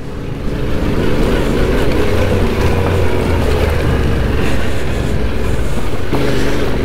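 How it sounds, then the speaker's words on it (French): A Yamaha Ténéré 700 adventure motorcycle's engine and exhaust run with a loud, continuous low rumble nearby, holding steady for several seconds with a slight shift near the end, and no one speaks. "Il fait un très beau bruit son pot."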